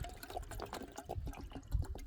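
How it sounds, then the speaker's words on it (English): Water pours into a kettle beside a Sonik Sizzla stove, a close, fairly quiet splashing trickle that rises and falls unevenly over a couple of seconds. "I'm going to put some water in the kettle"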